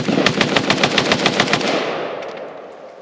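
A KUSA KP-104 AK-style rifle fires a rapid, evenly spaced string of loud shots at an outdoor range, emptying a magazine before the echo fades into quiet.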